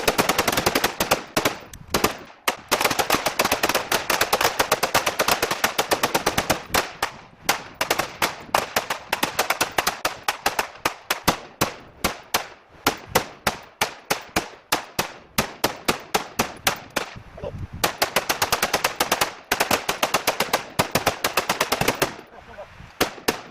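Rapid, loud, close-range gunfire at a shooting range, rounds fired into cabinetry in long automatic bursts separated by brief gaps, the cracks crowding together almost continuously.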